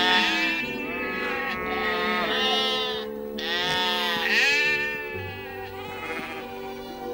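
Sheep bleat repeatedly, loud and close, their overlapping wavering cries running almost continuously with no talking.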